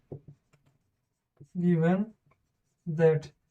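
Chalk on a classroom board during a tenth-grade coordinate geometry lecture: a few short taps, then two drawn-out squeaky strokes, clear against an otherwise silent room.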